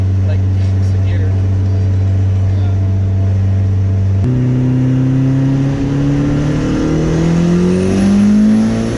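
A 300 HP Honda Civic wagon revs hard under acceleration, its engine note dropping sharply at a gear shift and then climbing again through the next gear, loud and close with a voice talking over it.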